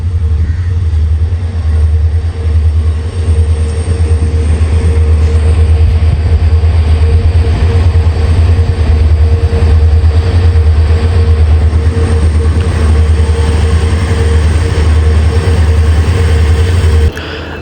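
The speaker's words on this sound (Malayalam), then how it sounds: "വാസ്കോഡി ഗാമ ഷാലിമാർ അമരാവതി എക്സ്പ്രസ് ഇതാ വന്നുകൊണ്ടിരിക്കുന്നു" The Vasco da Gama–Shalimar Amaravati Express pulls in behind twin WDP 4D diesel locomotives, a loud, steady, deep engine rumble with rail noise running unbroken throughout.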